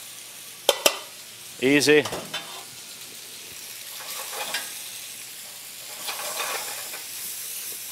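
Pasta goes into a hot pan with salami, olives and tomato and is stirred at just under medium heat, giving a soft steady sizzle after a few clanks; a voice speaks briefly near the start.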